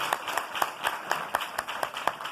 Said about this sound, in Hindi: ताली बजा लीजिए, प्रभु की ताली बजा लीजिए।